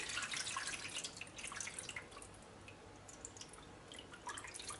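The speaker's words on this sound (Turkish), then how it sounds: "koyacağımız sütlaçları derin bir tepsiye alın ve içine soğuk su" Cold water runs into a deep tray of baked rice puddings, a soft, steady trickle with scattered drips, faint and close by.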